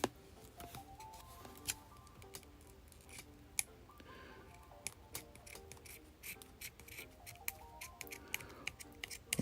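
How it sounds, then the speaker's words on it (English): Scissors cut open a trading card's protective sleeve in a quiet room, with a string of soft, crisp snips and small rustles spaced irregularly and heard up close. "maybe it's just scissors"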